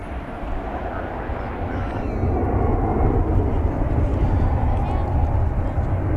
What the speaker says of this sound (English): we have another heavy on final approach now. American Flight 37 from Madrid in España.